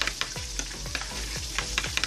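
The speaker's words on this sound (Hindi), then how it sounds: "बाकी चिकन जो है वो भी मैंने फ्राई होने के लिए रख दिया" KFC-style chicken pieces fry in hot oil with a constant crackling sizzle, while a utensil scrapes and taps the pan in a regular rhythm about every half second.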